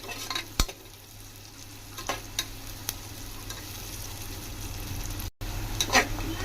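Onions fry in a pan for Nellore-style mutton curry, giving a steady low sizzle with a few sharp scraping stirs and clinks spread across it, close by and with no talk.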